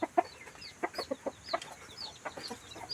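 Chickens cluck in a rapid, uneven series of short calls, close and clear against a quiet background.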